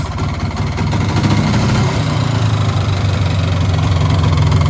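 A 1992 Polaris 350 2x4 ATV engine, long unused and just repaired, idles close up with a steady, slightly uneven rumble that holds level throughout.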